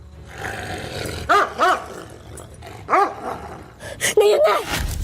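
A dog growls and barks in short, loud bursts at a car window, the outbursts spaced across the moment with a voice and scuffling in between.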